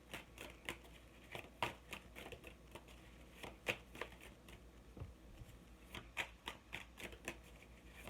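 Tarot cards are shuffled and pulled in a series of crisp, papery riffles and flicks, irregular bursts rising and falling close by over a quiet room with no talking.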